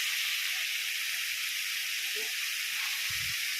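Jackfruit pieces frying in a pan give off a continuous, even hiss-like sizzle at close range, with a brief low knock near the end and no talking.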